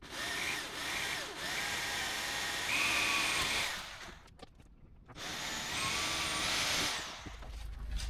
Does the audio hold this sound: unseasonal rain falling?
no